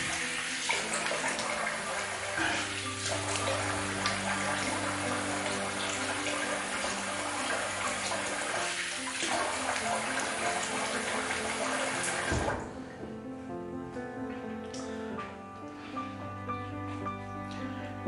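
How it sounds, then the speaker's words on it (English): Tap water runs steadily to rinse alum off a freshly shaved face, a continuous rushing splash that drops to a quieter, thinner trickle partway through, with no talking. "let's rinse off the alum."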